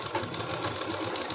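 A sewing machine runs a line of stitching over a folded kurti hem, a steady rapid mechanical whirr and needle clatter, close and continuous for the whole moment.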